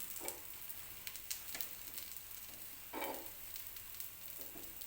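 A dosa on a hot pan sizzles steadily after a little oil is brushed on, with a continuous hiss broken by a few brief bursts of crackle and scraping.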